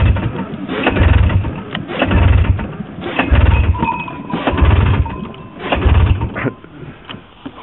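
A Jag 3000 engine is throttled in rhythmic surges, rising and falling roughly every second as the throttle is worked. The revving stays loud and close.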